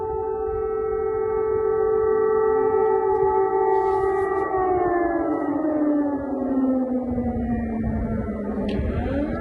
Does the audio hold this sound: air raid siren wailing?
yes